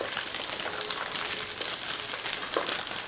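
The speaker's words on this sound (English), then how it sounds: "Okay, here go the onions." Diced onions and garlic hit a hot pan for pork bone ramyun, giving a dense, even sizzle that holds for a few seconds, close and steady, with no voices.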